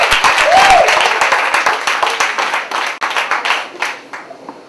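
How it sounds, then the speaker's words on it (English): At a New York City poetry slam championship, the audience claps for a competing poet, brisk applause with a brief cheer at the start that tapers into individual scattered claps. "Clap it up for the opponent."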